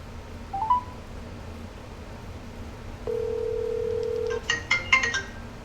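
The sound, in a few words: telephone call dialing and ringing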